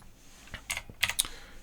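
Computer keyboard typing while entering a pin number into LED controller settings: a short burst of a few clustered keystrokes, close and fairly crisp, with no talking.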